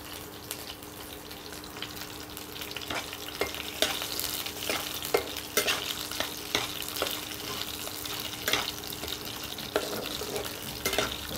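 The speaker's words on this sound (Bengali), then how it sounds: "কালো জিরে কাঁচা লঙ্কা ভাজা হয়ে গেল।" Black cumin and green chillies frying in a wok for hilsa pulao, a gentle sizzle under repeated rhythmic spatula scrapes and taps, fairly quiet and close with no voices.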